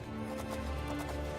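Rhythmic hoofbeats clop along steadily at a moderate pace, fairly quiet, with a faint whinny mixed in.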